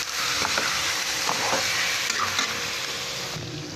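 Chicken caldereta sautéing in a pan, a steady loud sizzle with frying crackle running throughout, broken by a few soft scraping stirs, with no voices.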